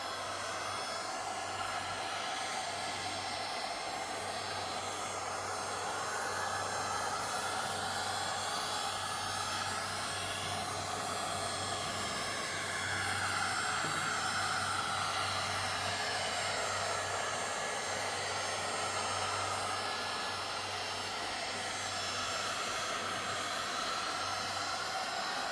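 A heat gun blows hot air steadily onto a car headlight cover, giving a constant, moderately quiet whooshing roar with a low hum underneath and no pauses.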